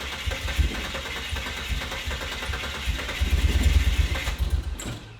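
A turbocharged Ford Fairlane engine cranks repeatedly in a rapid rhythmic chug, surging louder near the end as if about to catch, close by.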